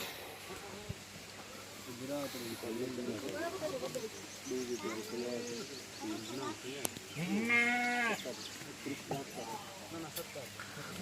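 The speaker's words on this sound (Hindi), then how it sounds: "बहुत ही बड़ा बकरा है" A large pink Rajanpuri goat at a livestock sale bleats in several drawn-out, wavering calls, with a louder cry near the end, amid crowd murmur and people talking.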